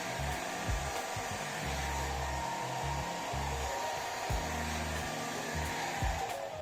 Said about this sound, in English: Dry the hair thoroughly with a hairdryer.